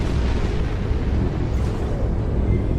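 Torpedo explosions from a space battle in Star Trek Online: a dense, continuous rumbling roar of blasts that stays steady and loud, with no single bang standing apart and no voices.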